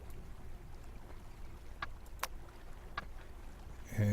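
A sailboat on the water in the Sailaway sailing simulator game, with a low, quiet, steady wash of water and hull noise, a few faint clicks, and a brief louder rumble at the end.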